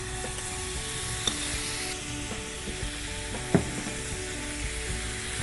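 Grated tomatoes hitting hot ghee in a pan, giving a steady close sizzle and frying hiss with a couple of sharp clinks from stirring.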